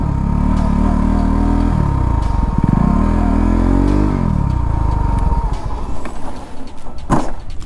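A motorcycle engine revs hard and close during wheelie practice, rising and falling in pitch through repeated throttle blips and gear changes, loud and steady throughout with a sharp clatter near the end.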